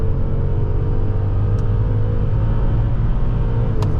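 A 2011 Audi A8 4.2 accelerates in sport mode, its engine giving a steady, loud low rumble with road noise heard from inside the cabin, no talking.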